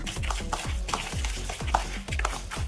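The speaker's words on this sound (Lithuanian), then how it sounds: "Viską išmaišom." A spoon stirs a spice mix of cardamom, cinnamon, cloves and black pepper for maqluba, in about eight evenly spaced scraping strokes, close and clear, with no talk.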